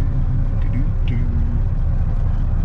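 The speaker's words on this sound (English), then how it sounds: "Get that piece of junk Cummins going." A Cummins diesel truck idles and rumbles steadily, a low continuous engine drone with faint higher squeaks briefly overhead, no clear revving.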